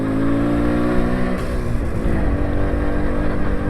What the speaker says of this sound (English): it just wants to rev more than I'm prepared to give it at the moment